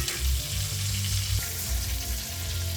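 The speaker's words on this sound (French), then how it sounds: "c'est comme si on le faisait un peu frire dans le beurre finalement, notre morceau" A steak sizzles and fries in a pan with butter, a steady crackling hiss with low rumbling thumps from the pan running throughout at moderate loudness, no voices.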